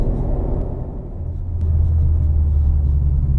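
A Mitsubishi Evo X cruising on the road, heard from inside as a steady low engine and road rumble that swells slightly partway through, with no talking.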